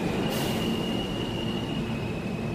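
A subway train runs from Queens toward Manhattan with a loud, steady rumble and a sustained high wheel squeal, near and continuous, with no talk.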